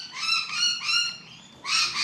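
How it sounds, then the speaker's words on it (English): Birds outside a garage call in loud, goose-like honks. Three close calls come back to back, and a fourth follows after a short pause. No one speaks over them. "Oh, shut up, birds."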